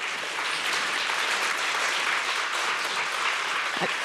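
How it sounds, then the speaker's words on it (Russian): Loud, dense applause from a large crowd at a journalism school's meet-the-master event fills the whole stretch, steady and unbroken. "Друзья, аплодисменты."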